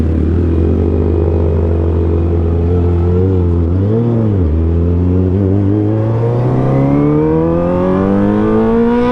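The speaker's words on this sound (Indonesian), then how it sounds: "Mobil yang nyebrang guys." A car passes close by on a road at night, its engine tone rising and dipping in a smooth Doppler sweep around the midpoint before fading and then revving up again, loud and steady with no talk.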